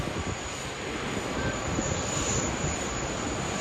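Malaysia Airlines Airbus A330-300 jet at Sydney Airport, a steady broadband engine roar holding constant and fairly loud throughout, with no voices.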